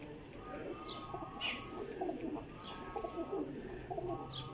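Several soft pigeon coos repeat in a slow rhythm, close by, with chirps and light bird activity in the background.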